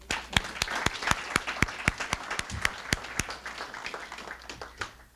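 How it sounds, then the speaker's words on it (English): Applause from an awards-show audience at a fine arts ceremony, with several sharp individual claps ringing out over the steady patter of the crowd. It carries on at an even level for several seconds, then thins slightly toward the end. "a big round of applause to all of you"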